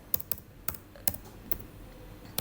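Someone types a web address on a computer keyboard: about seven crisp, separate keystrokes land at uneven intervals, close and clear, with no voices.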